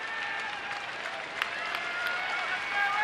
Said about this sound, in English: applauding for that third out.